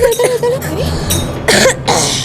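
A few sharp coughs from someone with a fever break out up close, mixed with brief spoken exclamations.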